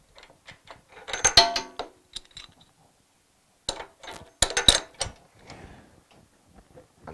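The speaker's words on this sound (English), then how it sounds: "Tighten the spark plug." A spark plug on a Hyundai HYW2500P pressure washer being tightened with a bar spanner, giving two brief bursts of clicking, ratcheting metal-on-metal turns separated by a pause, close and fairly quiet.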